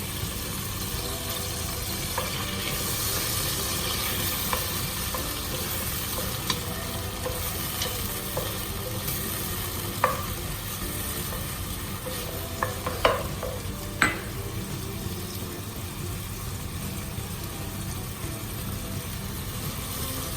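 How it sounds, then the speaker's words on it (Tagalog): Onion caramelizing in a frying pan while adobong bangus is cooked, giving a steady, close sizzle and frying hiss throughout with a few faint stirring clinks. "Antayin po natin ma-caramelize itong onion."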